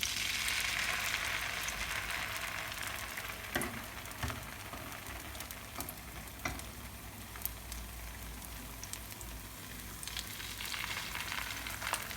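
Garlic bread slices frying in a pan, a steady close sizzle and crackle that runs unbroken throughout, with a few faint scraping taps and no voice over it.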